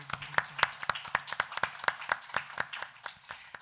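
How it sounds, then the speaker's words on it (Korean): A church congregation applauding during a Sunday morning service, a faint, steady run of rhythmic claps, roughly evenly spaced, heard from a distance. "우리 하나님께 감사와 영광의 박수를 드립니다"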